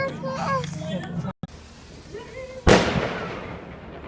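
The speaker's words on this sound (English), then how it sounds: "I'm gonna wait for fireworks and then show you" A firework bursts outside on bonfire night with a sharp loud crack and a fading crackling tail, after children's voices and play sounds carry on in the background.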